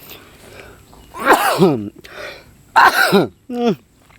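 A man gives a sharp, loud sneeze, with a throaty exhale before it and a second burst shortly after. Each outburst is close and abrupt, and quiet pauses separate them.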